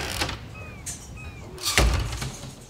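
A door opens in the video game Life is Strange, in a diner setting, with a brief creak and a thud that land near the end of a quiet stretch with faint ambient sounds.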